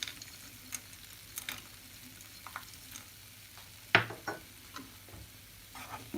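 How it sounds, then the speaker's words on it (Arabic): Ground cardamom and walnuts are stirred in a pan for an Iraqi kleicha filling: a soft, constant frying hiss with light scraping strokes of a spoon, fairly faint and close. "واظل تحريك مستمر"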